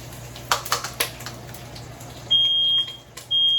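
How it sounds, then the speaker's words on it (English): A smoke alarm sounds high, piercing beeps over a low hum in a kitchen while jollof rice cooks, with a few clattering kitchen noises just before. "Oh god, this alarm has been ringing."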